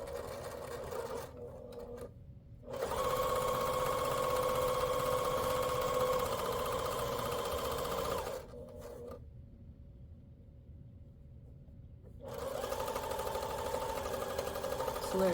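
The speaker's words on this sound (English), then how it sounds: "I'm going to go ahead and sew my scant 1/4 inch on either side of that" A domestic sewing machine stitches scant quarter-inch seams on layer-cake quilt squares in two long runs with a short pause between them, steady and close.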